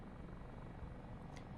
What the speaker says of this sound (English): I will say, once you get it going, this helicopter flies really easily.